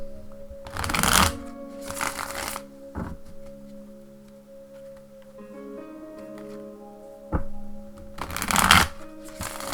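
Thelema Tarot cards are shuffled in three brisk riffling bursts, close and crisp, with quiet pauses and faint tapping between them.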